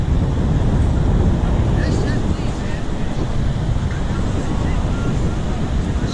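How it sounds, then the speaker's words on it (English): Strong wind blasts across the microphone at a beach during a rainy metal-detecting outing, a loud, constant roar mixed with surf, with no break across the stretch. "See the wind's going sideways."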